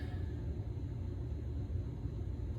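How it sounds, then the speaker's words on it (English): A pellet stove's steady low rumbling hum drones on without a break in a workshop, a constant mechanical background with no voices. "That's the pellet stove going over there to take some of the chill out of the air."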